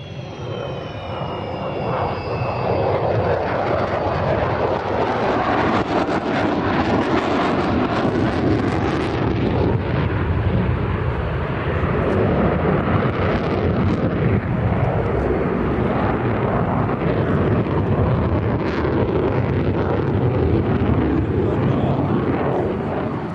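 A Sukhoi Su-35 jet fighter flying aerobatics with a full weapons load at the 1994 Farnborough Airshow: a loud, sustained jet roar that rises early and stays heavy and rumbling, with wind buffeting on the microphone.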